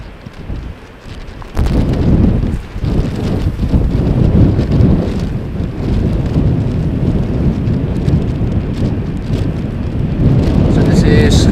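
Strong wind buffets the microphone at Amsterdam Schiphol airport, a loud continuous roaring rumble that swells after a quieter opening and keeps gusting throughout.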